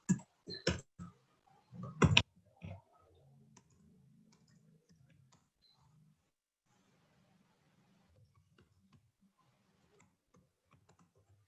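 A few quick, crisp keystrokes on a computer keyboard while typing a printf statement in a basic C programming lesson, followed by near silence with faint, sparse clicks.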